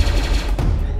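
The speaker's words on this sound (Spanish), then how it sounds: "¡Me disparan! Me disparan. Este tipo tiene armas de distancia." Rapid bursts of gunfire from a Roblox shooting game crackle loudly in quick succession, close and dense, with no talk over them.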